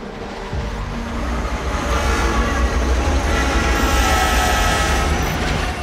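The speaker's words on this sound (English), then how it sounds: "Cold train. Hear the gears turning all right." Loud train rolling past in Sniper Ghost Warrior 2, a heavy continuous rumble with metallic whine and grinding from turning gears, close and building slightly in volume.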